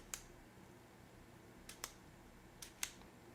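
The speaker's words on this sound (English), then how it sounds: "the eye cups on these are very positive clicking" Eye cups on a Vectronix Vector X laser rangefinder click firmly into position, a faint isolated click followed by two pairs of crisp clicks against a quiet background.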